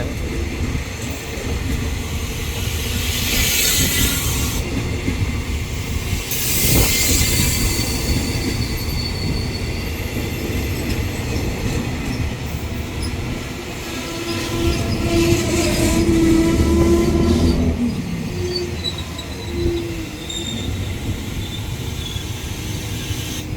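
Thaksinarat special express train 31 pulls into Ban Pong station, with a steady rumble of rolling cars, squealing wheels as it brakes, clicking over rail joints and a horn sounding, loud and continuous throughout.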